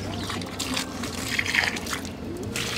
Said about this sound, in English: This seems counterproductive that you're pouring water on your post